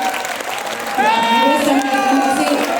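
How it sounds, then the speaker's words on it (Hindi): A crowd claps to welcome the chief minister at a public event in Shravasti district, the applause swelling about a second in as a voice over loudspeakers carries on above the clapping. "बस जोरदार तालियों के साथ अभिनंदन बंदन स्वागत।"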